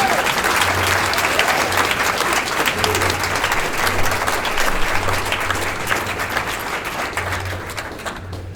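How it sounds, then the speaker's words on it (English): Sustained audience applause fills a hall at a beach music hall of fame induction ceremony, loud and dense clapping holding steady throughout with a low hum beneath it. "Let's give a big round of applause to a very talented man, J.K. Lofton."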